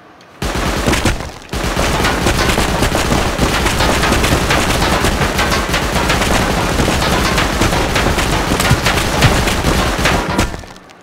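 Sustained rapid automatic gunfire aimed at a turret in the survival game Rust, loud and close. It runs almost nonstop for about ten seconds after a short opening burst and a brief gap.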